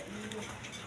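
Pigeons at a pigeon seller's stall coo softly and steadily through a brief moment, low murmuring calls close by under faint background noise.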